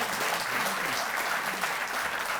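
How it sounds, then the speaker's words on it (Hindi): Steady, dense applause from a crowd at a government ceremony honouring Tokyo Olympics athletes, a continuous wash of clapping heard at a distance with no talking over it. "जोरदार तालियां।"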